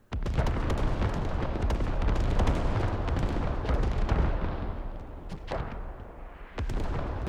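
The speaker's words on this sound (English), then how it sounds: "we see that arty trade just decimating" Heavy artillery bombardment in the military game Squad: a dense, continuous roar of booming impacts and blasts, with a few distinct sharper explosions punching through near the end, no voices.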